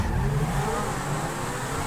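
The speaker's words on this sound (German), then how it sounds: "Er hat einfach einen vollgetunten Centauro." A fully tuned Centauro sports car in GTA 5 drives with a steady engine roar and faint tire noise, constant in level throughout the short stretch.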